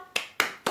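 Children clap the PPK chant in a classroom, three sharp, evenly spaced claps in quick succession, close and crisp with no talking.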